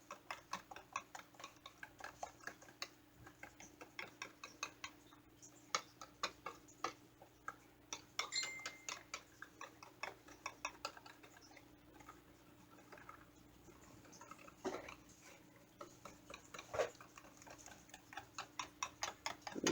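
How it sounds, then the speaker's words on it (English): A whisk scrapes steadily around a bowl while tempering a triple berry ganache, producing quick, regular ticking strokes that carry on continuously and fairly close, with no talking. "as I was whisking continually. Just keep whisking."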